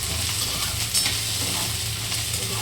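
Peanuts frying with onion, cumin and curry leaves in a pan, a steady loud sizzle with a faint stir partway through, close and continuous.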